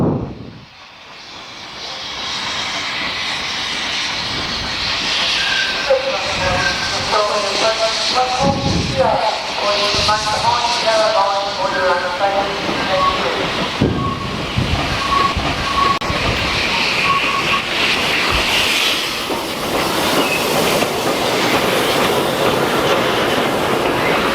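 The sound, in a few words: Mornington Tourist Railway train running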